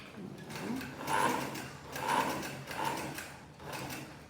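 A sewing machine stitches fabric in short bursts, a rhythmic mechanical whirring and clatter that swells and eases in three or four pulses, close but fairly quiet with no talk.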